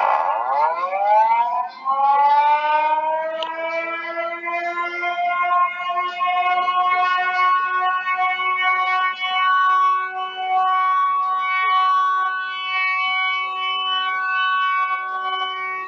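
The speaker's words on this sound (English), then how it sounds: "this is what a Thunderbolt 1000 sounds like on chopper level" Thunderbolt 1000 siren running at chopper level, a loud steady wail that sweeps up over the first seconds and then holds a rich, sustained multi-harmonic tone with no talk.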